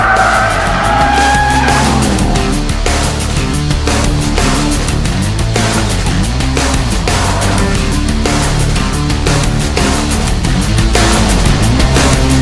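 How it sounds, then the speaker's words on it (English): A Jaguar XK flagship coupe driven at the limit around the Nordschleife: a loud, sustained engine roar with shifting pitch and tire squeal, close and continuous throughout. "exploring the limits of Jaguar's flagship coupe around the Nordschleife"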